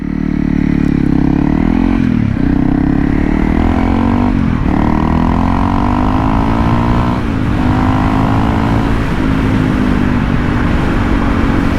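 Honda CRF 300L motorcycle ridden steadily, its engine droning loud and close throughout with a few brief dips and rises in revs as gears change, wind and road rumble mixed underneath.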